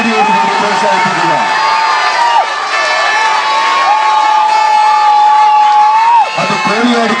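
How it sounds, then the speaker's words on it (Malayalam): Crowd at a Kerala state tug-of-war match between the Koliyadi and Lions Pulikkal teams keeps up a steady, dense roar of cheering and clapping, with shrill whistle-like tones and shouts over it throughout. "അത് കോളിയാടിക്ക് വേണ്ടിയുള്ള കയ്യടിയാണെങ്കിൽ ലയൺസ് പുളിക്കലിന് വേണ്ടി കയ്യടിക്കുക."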